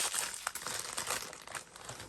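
A Kit Kat gingerbread wrapper is cut open, giving a close, steady plastic crinkling and rustling with a few sharper crackles throughout.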